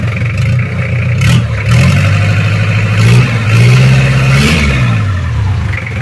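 A Mitsubishi Strada 4M40 diesel engine revs up and down repeatedly after an overhaul, a loud, slightly rough mid-pitched roar that rises and falls steadily throughout; the injection pump setting is still off.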